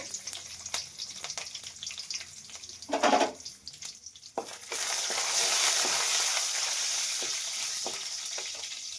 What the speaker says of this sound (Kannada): ಸ್ವಲ್ಪ ಜೀರಿಗೆ ಚಟಪಟ ಅಂತಿದ್ದಂಗೆ ಕರಿಬೇವು, ಸಣ್ಣ ಹೆಚ್ಚಿರೋ ಬೆಳ್ಳುಳ್ಳಿ